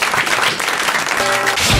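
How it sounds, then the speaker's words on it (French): Studio audience applause on a French radio talk show, a dense sustained wash of many hands clapping at steady loudness throughout, with a brief tonal sound overlapping near the end. "on vous applaudit, monsieur."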